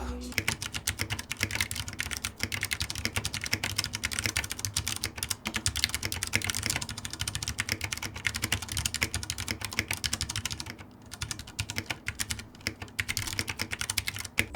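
Continuous fast typing on a Ducky One 2 Mini 60% mechanical keyboard with Cherry MX switches, dense crisp clacks close up with a brief pause near the end.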